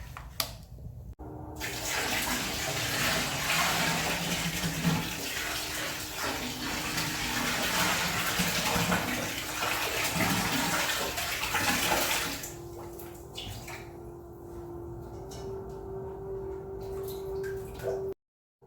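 Water poured from a pot into a bath in a spiritual bath setting, a steady loud rushing splash that runs continuously and then gives way to quieter trickling and a faint rising tone.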